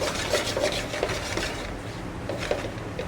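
Ratatouille vegetables being stirred in a pot, a close, rhythmic scraping and shuffling of a spoon through the chunky mix with soft knocks against the pot, and no voices.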